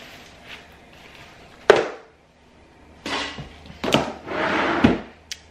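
Desk drawers are slid and knocked shut, giving several sharp wooden thumps and a scraping slide at close range in a quiet room, with short gaps of near silence between them.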